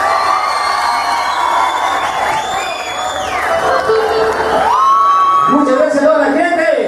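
A large concert crowd at a live show cheers and whoops loudly, a dense roar of voices with shouts rising above it, building toward the end.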